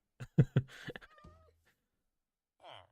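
A pet cat gives a short meow after a burst of a person's speech, fairly close, with near silence between.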